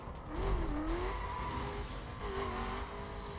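Car tires squealing in a skid in the racing video game The Crew, a wavering screech over a steady engine drone that stays loud and continuous with no voices.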